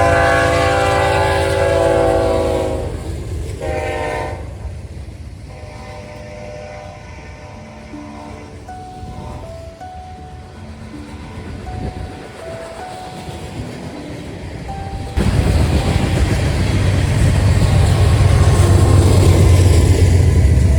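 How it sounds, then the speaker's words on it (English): A loaded westbound BNSF DDG freight train with Dash 9 locomotives passes on the Emporia Sub, horn blasts sounding early, then a long rumble of rolling cars with clicking wheels that swells louder toward the end. "The next train would be a westbound loaded DDG train with a Dash 9 trailing on the head end"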